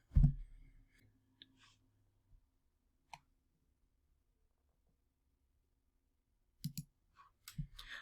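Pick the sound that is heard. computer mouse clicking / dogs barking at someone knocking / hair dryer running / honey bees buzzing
computer mouse clicking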